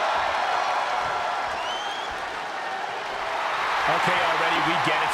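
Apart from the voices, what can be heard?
crowd cheering in video game WWE 2K22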